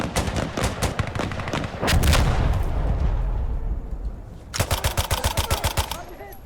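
Gunfire in the video game Insurgency Sandstorm: rapid bursts of close, loud shots, then a booming rumble and a quieter stretch before another fast volley. A player talks over parts of it.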